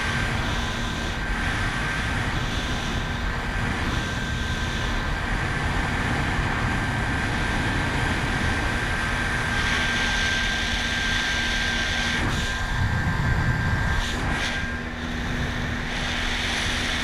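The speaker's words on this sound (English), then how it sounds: "It's been so long since I've run this boat." A motorboat engine runs steadily at speed on the water, a continuous loud drone mixed with wind buffeting and rushing water throughout, with no speech.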